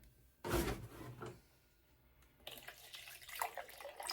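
Cold water is poured into a container on a dye day, giving a short splashing gush, a quiet pause, then a longer trickling pour.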